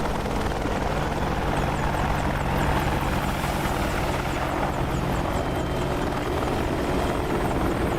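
A helicopter rotor in the DCS flight simulator game thumps steadily and loudly, a continuous close drone of engine and blades with no pauses.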